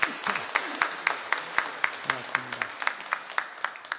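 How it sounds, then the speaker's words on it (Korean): A church congregation claps steadily together in a reverberant sanctuary, a sustained round of applause for the choir with a voice faintly beneath it. "하나님께 영광 돌리는 박수로 우리 함께 격려하시겠습니다"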